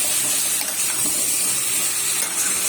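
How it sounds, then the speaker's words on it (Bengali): Water pours steadily into a pot of spiced potatoes that have been fried in masala, a continuous close splashing rush with no voices. "জলটা দিয়ে দিই"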